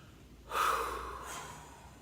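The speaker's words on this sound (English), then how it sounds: "just let out like 3 really nice, strong exhales" A strong exhale during breathwork comes as one close, forceful rush of breath, followed by a softer, fainter outbreath, in a quiet room.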